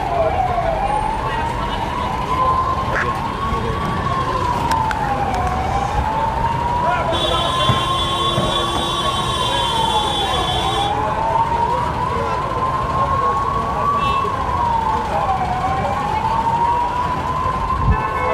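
A wailing emergency siren from ambulance, fire brigade and police vehicles at Karnal's Karna Gate market, rising and falling steadily and close by, with a second higher tone joining briefly and a voice talking underneath.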